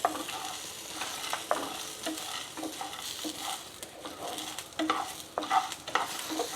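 Roasted gram dal, black pepper and coriander fry gently in a pan for mint chutney, with a soft continuous sizzle and repeated scraping stirs close by.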